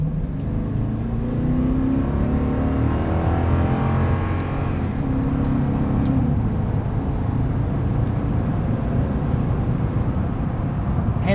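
From inside the cab, a 2019 Toyota Tundra 4x4 SR5 Double Cab pickup accelerates onto a highway, its engine rising in a steady drone under road and wind noise.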